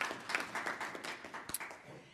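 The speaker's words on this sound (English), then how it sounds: "A big hand of applause for you guys" Applause for project coordinators at a Master Gardeners continuing-education gathering, a faint, brief patter of scattered hand claps from a modest audience.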